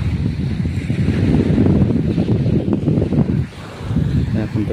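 Waves wash onto a fine-sand beach as wind buffets the microphone, giving a loud, rough roar that drops off briefly near the end before surging again.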